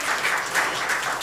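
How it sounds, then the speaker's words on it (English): An audience at a Rotary Club meeting applauds, a dense, even wash of clapping that holds at steady loudness for just over a second with no speech. "Pawan and Santosh deserve a round of applause for their good leadership"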